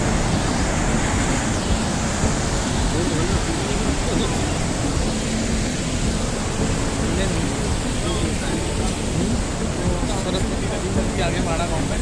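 A fast-flowing mountain river near Mana village, beyond Badrinath in the Himalayas, rushes steadily and loudly for the whole stretch, a dense, unbroken roar of water that fills everything.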